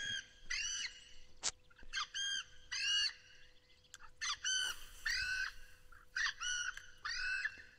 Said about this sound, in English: I have no idea what that bird is